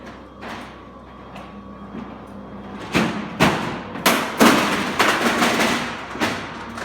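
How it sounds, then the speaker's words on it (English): A roller garage door rumbles and rattles as it lowers, then a series of loud knocks and thuds sound as it comes down onto an obstacle in its path, with a faint hum underneath. "Now I'm going to lower the door onto an obstacle"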